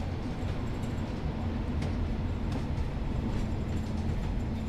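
Train rumble from Train Sim World 6 as a train comes into Croston station on the Blackpool branches: a steady, loud low-frequency drone of wheels and engine with faint clanks and no speech.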